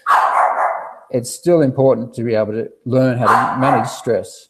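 Dogs bark in the background during an indoor running webinar, brief barks at the start and between phrases, mostly underneath someone speaking steadily throughout.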